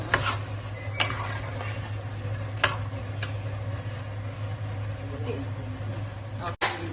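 Chicken liver frying in a pan, a low continuous sizzle with occasional clicks and scrapes of stirring, moderately close and steady throughout.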